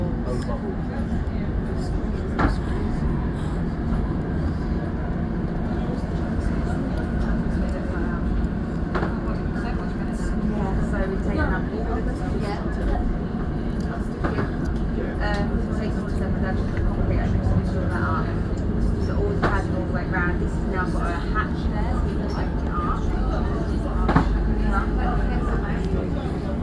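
Elizabeth Line train running between stations toward Farringdon, a steady loud rumble and rolling roar with faint rattles throughout, while people talk over it.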